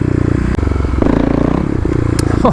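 Kawasaki KLX351 engine with its secondary throttle blade removed, blipped under throttle twists, loud and close, a pulsing low rumble that rises and falls with a couple of sharp clicks and scrapes along the way.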